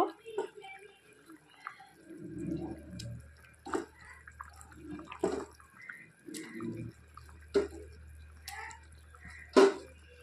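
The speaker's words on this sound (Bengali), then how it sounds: "ঝোলটা উতলে গেছে, এখন আমি ঝোলের মধ্যে মাছগুলোকে এক এক করে ছেড়ে দেব" Boiling katla fish gravy in a pot gives quiet, intermittent soft plops and bubbling as pieces of fish are dropped in one by one, faint and close.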